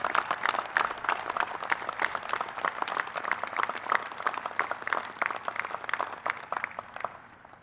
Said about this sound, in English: join me in a round of applause for the members of the class of 2020